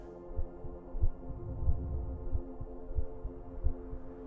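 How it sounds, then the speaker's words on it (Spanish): Slow, regular heartbeat thumps sound low and muffled over a steady droning hum, with no voices. "El silencio se interrumpía solo por el eco de sus propios latidos."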